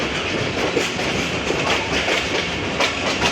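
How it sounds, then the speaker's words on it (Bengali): The Barendra Express intercity train rolls along the rails, a loud, continuous rumble with steady clickety-clack wheel beats heard from close by, with no voices. "732 ডাউন আন্তনগর বরেন্দ্র এক্সপ্রেস ট্রেনটি।"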